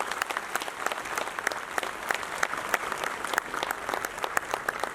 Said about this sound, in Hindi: मैं आप सबसे प्रार्थना करूँगा कि मुख्यमंत्री को जोरदार तालियां बजा करके स्वागत कर दें।